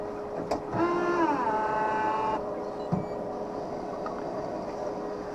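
A lens edger puts a safety bevel on the back surface of an eyeglass lens, a steady mechanical hum with a whining tone that rises and settles, plus a couple of faint clicks.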